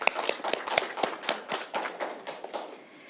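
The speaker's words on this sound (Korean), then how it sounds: "늦은 시간까지 애써주신 그 에릭 브린율슨 교수님께 다시 한번 큰 박수 드리면서 마무리하겠습니다" Audience applause at an Asia Future Forum conference session closing a talk by Professor Erik Brynjolfsson: a steady patter of many hands clapping at moderate loudness, thinning out toward the end.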